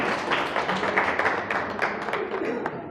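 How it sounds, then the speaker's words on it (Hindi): Audience applause at a Diamond Club recognition at a business team meeting, a dense, steady wash of many hands clapping that fills the room, with some voices mixed in underneath. "एक बार जोरदार ताली इनके लिए।"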